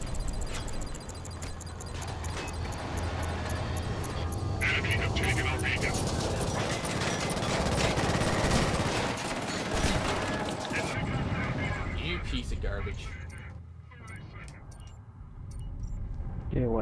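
A base camp turret hammers out gunfire in Killzone Shadow Fall online multiplayer, dense rapid bursts and booms over more than ten seconds that thin out toward the end, with voices talking over the fighting.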